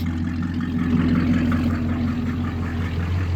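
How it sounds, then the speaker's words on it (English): A 1987 GMC truck's 305 V8 with small cams, turbo mufflers and shorty headers idles steadily with a deep, lumpy rumble, loud and close, with no talking. "Love the sound of these small cams, especially with turbo mufflers and shorty headers."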